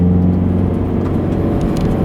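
Close and loud, a Subaru BRZ engine holds a steady, heavy drone with a strong low rumble while the driver rev-matches into second gear, the pitch holding fairly even with slight surges.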